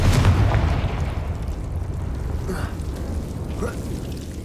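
Confringo blasting spell bursting in Hogwarts Legacy, with a heavy boom up front that fades into a rumbling tail, followed by a couple of faint softer pops and magical shimmers.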